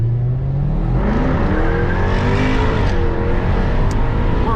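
A Jaguar F-Type R accelerates hard from a dead stop, recorded from inside or close by, its engine climbing loudly through rising revs and a gear change, steady and unbroken for a few seconds.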